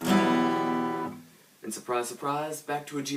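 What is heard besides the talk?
No distinct noise like a dog, phone or traffic.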